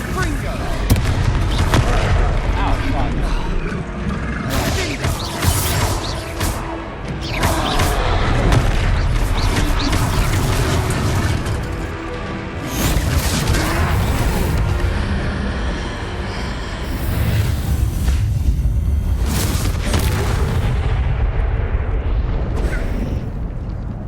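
Confringo blasting spells explode repeatedly during a troll fight in Hogwarts Legacy, dense booming blasts and rumbling impacts layered over battle music and effects, loud and continuous, with voices shouting through the fight.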